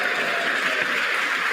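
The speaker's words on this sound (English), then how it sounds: "They clapped." Audience applause at a State of the Union address, a dense, steady wash of clapping from a large crowd held at an even level throughout, with no voices standing out.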